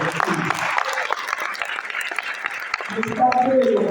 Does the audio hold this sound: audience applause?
yes